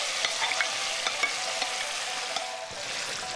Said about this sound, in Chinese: 我们按照一个方向进行搅拌，慢慢的搅拌。